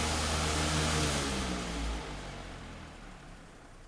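A Mainstays 20-inch high velocity fan spins down, its loud broadband airy whoosh and motor hum fading steadily over a few seconds as the blades slow.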